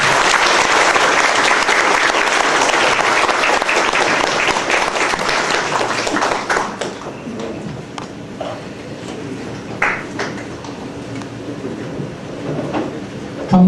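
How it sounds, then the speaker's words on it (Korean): An audience at a retirement ceremony gives a warm welcome to a retiring professor, loud sustained applause that fades after about seven seconds, followed by quieter room noise and shuffling. "모두 뜨거운 박수로 맞이해 주시면 감사하겠습니다"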